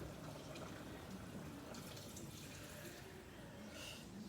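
Pork adobo boils in a pot with a soft, continuous bubbling and hiss, faint and steady throughout.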